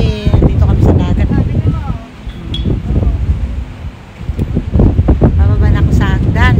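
Wind gusts at a seaside beach at Porteau Cove, a steady broadband rush buffeting the microphone, easing briefly midway, with people talking over it throughout.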